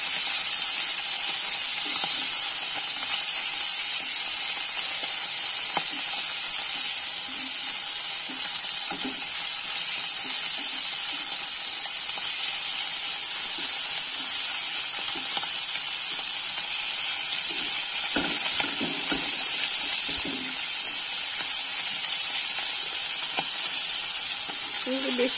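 Small khoira fish frying in just a little mustard oil in a wok, giving a continuous close sizzle and hiss with occasional faint stirring knocks and clinks, no talking.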